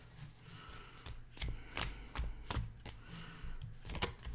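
Tarot cards are shuffled by hand in a steady series of riffling, slapping bursts, close and fairly loud, with no voices over them.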